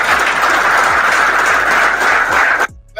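A crowd of Colorado Buffaloes football players applauds to welcome Coach Prime: a dense, steady wash of clapping that continues loudly for nearly three seconds, then cuts off abruptly into near silence.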